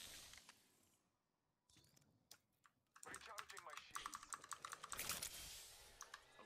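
Rapid computer keyboard and mouse clicking during a match of Apex Legends, a sparse stretch of clicks at first, then a dense, steady clatter of keystrokes near the microphone with brief bits of talk mixed in.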